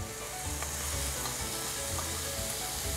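Anchovies sizzle and fry steadily in a pan of boiling soy-sauce seasoning, a close, continuous crackle with some stirring and no voices.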